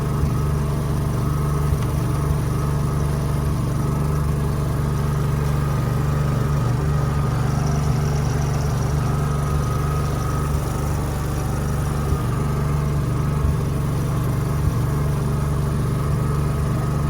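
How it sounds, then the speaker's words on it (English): Generator running steadily beside a BCA MK3 jig borer milling setup: constant loud, low droning hum that stays even from start to finish, with no talk. "Sorry for the noise of my generator."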